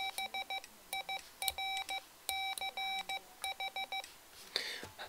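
Electronic Morse code keyer sending short groups of clear, steady tones, crisp beeps in rapid dot-dash patterns with brief pauses between groups, close and alone over a quiet background.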